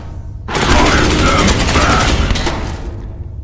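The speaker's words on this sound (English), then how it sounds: "Get some flamer shots down that corridor wouldn't hurt." A sustained burst of flamer fire from the video game Space Hulk Ascension, a loud crackling roar down a corridor that starts abruptly and runs for about three seconds before tailing off.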